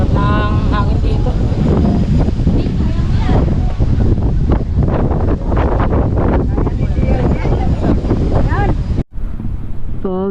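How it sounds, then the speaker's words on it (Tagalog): Strong wind buffeting the microphone on a hilltop in the Digos hills during a solo motorcycle ride, loud continuous roaring gusts, with voices talking over it and a brief dropout near the end. "Sarap ng hangin dito."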